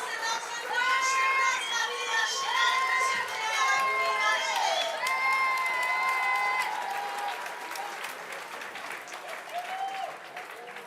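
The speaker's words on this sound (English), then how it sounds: "you'll hear the crowd in the background screaming for Pierre Puybarret" Crowd screaming and cheering for an athlete at a STIHL Timbersports European Trophy 2022 lumberjack competition, with loud sustained shouts and whistles over steady applause that dip slightly toward the end.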